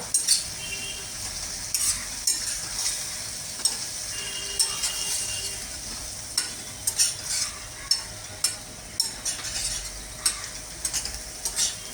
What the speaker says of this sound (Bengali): লবণ হলুদ দিয়ে ভেজে রেখেছিলাম 100 গ্রাম পনিরটা আমি দিয়ে দিচ্ছি। সবটা একটু ভালো করে কষিয়ে নেব।